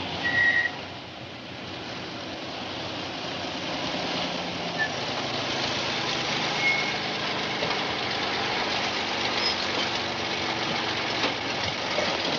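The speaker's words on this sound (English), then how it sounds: "Off the engine, Wilbur." A bus engine idles steadily and without a break, a continuous low rumble that sits in the background at moderate level with no speech over it.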